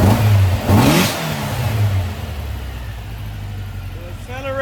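Freshly built Volkswagen 2021cc stroker engine revving loudly up close, a strong throttle blip that climbs and falls, then settles into a steady, rumbling idle with a brief voice near the end.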